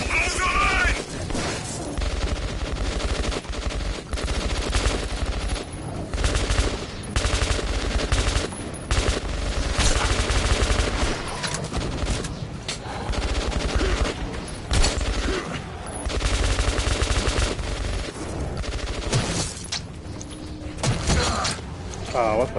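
Dense, loud gunfire and turret fire rage in the post-apocalyptic shooter Metro Redux, rapid bursts and booming shots layered continuously over mechanical clatter, with shouting voices mixed into the din.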